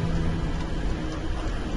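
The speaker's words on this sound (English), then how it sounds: "oh, is it raining?" Steady rain falls in the video game Don't Starve, a dense, continuous hiss with low rumbling underneath and no voices.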